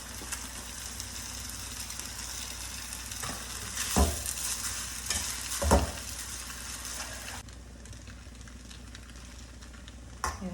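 Vermicelli (shavige) with lemon juice and oil sizzles steadily in a pan while being stirred, a constant frying hiss broken by a couple of louder scraping thumps of the spoon, close and without talk.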